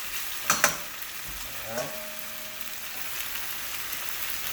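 Fish sears in a pot for Jamaican curry steam fish, a steady close sizzle of frying with a few clinks and stirring knocks early on and a brief spoken word over it.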